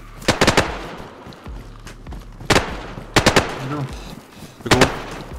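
Bursts of gunfire in DayZ on the Namalsk map during a base raid, several separate volleys of rapid shots spaced across the moment, loud and close, with a voice talking in between.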